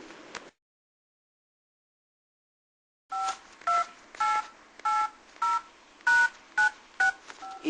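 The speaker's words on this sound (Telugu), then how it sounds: "ఆడికోసారి ఫోన్ చేయాలి." A phone number being dialed, heard as a brief sound, then a long silence and a regular run of about ten sharp keypad tones, each a short beep with a small gap between.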